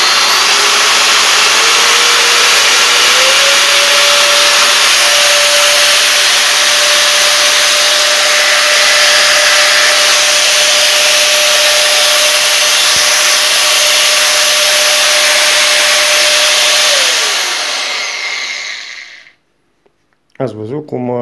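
A Bosch GWS angle grinder spins up through its variable speed settings, a loud steady motor whine stepping up in pitch, then winding down and stopping near the end, with a short burst of talking afterward.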